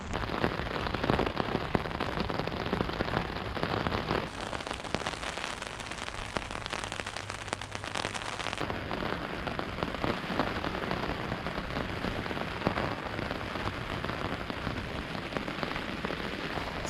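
Heavy rain drums steadily on a camping tarp during a wild camping night, a dense continuous patter with occasional louder drops, close and loud throughout with no talking.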